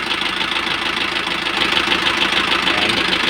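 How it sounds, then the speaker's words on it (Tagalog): A car engine runs with its number 3 cylinder misfiring after taking in water, giving a steady, rough idle with an uneven, knocking pulse, close and moderately loud. "ganun pa rin yung kanyang andar same lang walang nagbago so palyado tong number 3"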